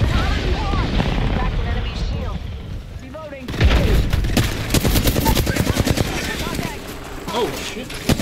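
Video game gunfire in dense rapid bursts, loud automatic fire and booms dominating the second half after quieter shots, with a player talking over it.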